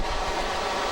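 Steady broadband rumble and rushing noise of a passenger train running from Taiyuan to Beijing, heard continuously from inside the carriage, with no distinct clatter.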